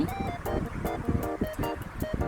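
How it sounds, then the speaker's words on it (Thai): Steady rushing whoosh of an electric fan running on speed two of three, close by, with faint background sounds mixed in. "นี่คือเสียงพัดลมเบอร์สองนะครับท่านผู้ชม"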